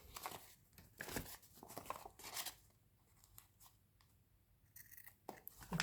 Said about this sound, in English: And then you would just trim that off.